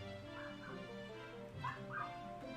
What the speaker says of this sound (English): Oh, my dog's outside. I heard her barking.